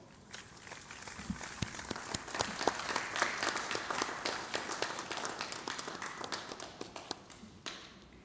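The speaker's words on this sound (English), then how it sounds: "please stand up and give yourself a big round of applause" Graduates applauding at a university graduation ceremony, a steady patter of clapping with distinct sharp claps standing out, building slightly then continuing evenly at moderate loudness.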